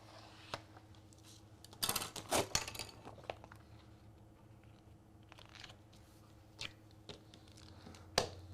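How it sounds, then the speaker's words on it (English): A piece of peel-and-stick vinyl being cut, with sharp crinkly snips and crunches in short clusters close by over a quiet background hum. "I'm just going to cut off a piece here."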